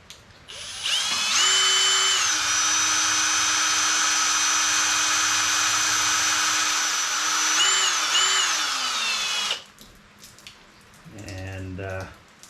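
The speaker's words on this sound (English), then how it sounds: "I'll get the drill ready and get drilling." Power drill boring slowly into steel for a John Deere 2032R or 2038R tractor grill guard, a steady high whine held for about eight seconds with brief pitch dips near the end, then stopping, followed by a short voice.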